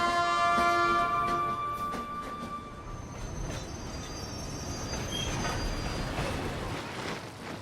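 A train pulls into Shide Station after winding through the mountains, a steady rolling rumble with a thin high wheel squeal, fairly loud and continuous, with insects chirping faintly behind.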